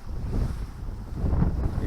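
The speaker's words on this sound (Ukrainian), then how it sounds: "вітер у нас такими поривами" Gusts of wind buffet the microphone in a low, rumbling roar that swells and eases, loud and close, with no voices, on a riverbank with reeds.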